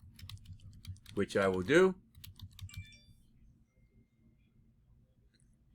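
Keys tapped on a computer keyboard while entering a name into the center section of a custom footer in an Excel project, soft scattered clicks around a brief stretch of talk.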